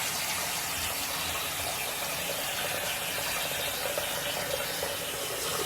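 Water splashing steadily and close up while a face is washed at a running sink, a continuous wet rush with no talking.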